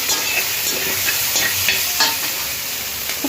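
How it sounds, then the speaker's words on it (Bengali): Soyabean with tomato and green chilli fries in a pan without oil, giving a steady close sizzle broken by scraping stirring strokes and no voices. "এইভাবে ভাজবো।"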